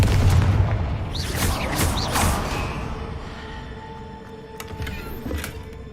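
A Confringo blasting spell in Hogwarts Legacy goes off as a heavy booming explosion with creaking, rumbling debris, loud at first and then fading into a low rumble and a few later cracks.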